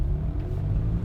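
A Porsche 911 flat-six engine running, a low steady rumbling drone heard close for about a second.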